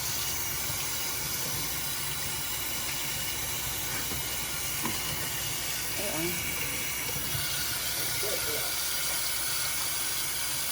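Steam hisses steadily from a hot seafood boil pot, a broad continuous rush that runs the whole time, with people chatting faintly underneath.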